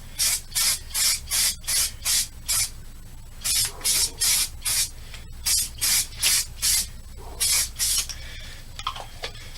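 Repeated short bursts of spray paint from an aerosol can coating a DIY cold air box for an LS-swapped C10, about sixteen hissing blasts in steady rhythm, close and loud, with no talking.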